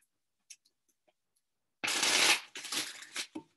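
Tarot cards are shuffled in a riffle and bridge of crisp, papery flutters, loud and close, after a near-silent start with a few soft taps.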